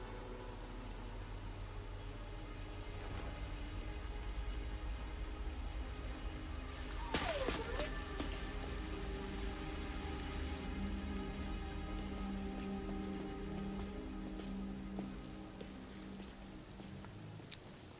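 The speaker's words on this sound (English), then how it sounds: "It's raining." Steady rain falls throughout in the video game Master Detective Archives: Rain Code, a dense, even hiss of drops on surfaces with a brief sharper sound partway through, no speech over it.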